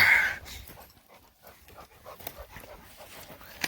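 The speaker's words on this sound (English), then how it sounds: "Good dog. Good dog." A dog panting and whimpering softly while fetching outdoors during a winter shed antler hunt among trees, with scattered rustling and crunching movement around it and a louder breathy burst at the start.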